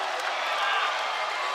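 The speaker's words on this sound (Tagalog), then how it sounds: "And look at the crowd here erupt." A basketball crowd at a Delta Cup 2024 game between Angeles City Red Warriors and Minalin All-Stars roars after a big shot, a dense, sustained wash of cheering and whooping at steady loudness, with no distinct voices rising above it.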